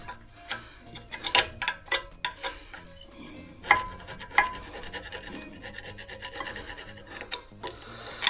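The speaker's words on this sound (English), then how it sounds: "take a screwdriver and literally clean the place" A screwdriver scrapes and rasps dirt off a brake caliper on a BMW 420d, a series of short, irregular scratchy strokes at close range, some sharper than others, with no talking.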